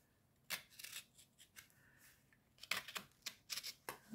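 Scissors snip through pipe cleaner chenille wire for a Christmas tree wreath, with several quick, faint close-up cuts in uneven bursts.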